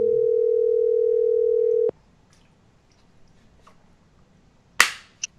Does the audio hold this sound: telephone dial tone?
yes